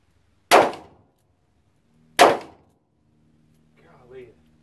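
Two loud, close revolver shots from a Ruger LCR or Taurus 85 Ultra-Lite, each a sharp crack with a short decay, about a second and a half apart, then a faint voice.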